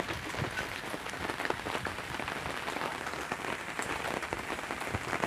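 Steady rain falling outdoors around dusk, a dense, continuous patter with no breaks, loud and close throughout.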